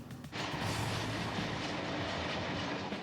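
An inner city train rushes past, a sudden swell into a loud, sustained rumble with clattering wheels that holds steady to the end.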